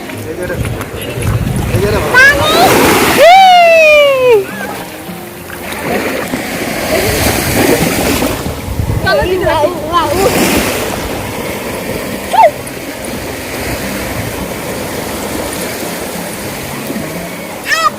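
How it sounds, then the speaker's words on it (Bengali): Sea waves wash and splash onto a sandy beach in a steady, loud rush, with people talking and calling out over the surf. "এখন খাওয়া দাওয়া সেরে সবাই মিলে যাচ্ছি সমুদ্রের জলটাকে আগলে নিতে"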